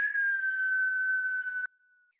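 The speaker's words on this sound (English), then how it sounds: "Exhale a whistle." Breath whistled out through pursed lips in a guided breathing exercise: one long, even, clear tone lasting well over a second before it cuts off, followed by a faint lingering whistle.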